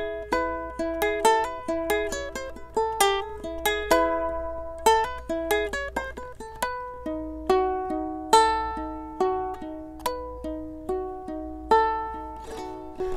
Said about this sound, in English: there's also a little riff at the beginning that adds a bit of finger picking to this song